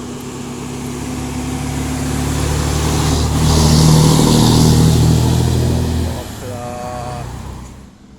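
A Kenworth truck engine revs up, swelling to a loud roaring peak and then easing off, with a voice briefly audible near the end.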